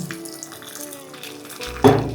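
Half a glass of water is poured into khaman batter in a kitchen, giving a soft, steady trickle, and a louder splash comes near the end.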